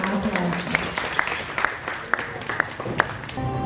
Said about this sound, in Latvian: Lieli aplausi.